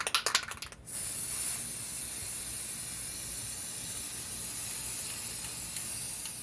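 A brief burst of aerosol spraying in short puffs, then a steady hiss of spray paint on an old picture frame continuing close by for several seconds.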